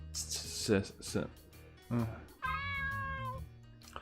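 A video game cat meows several times, drawn-out and tonal, the last call long and sustained, mixed with game sounds and a voice talking over it.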